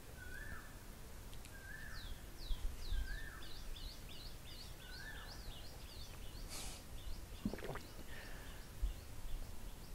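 Outdoors, a bird gives several short, faint whistled calls, joined by a rapid series of higher chirps, distant and soft over a steady hiss of ambient noise, with a brief knock near the end.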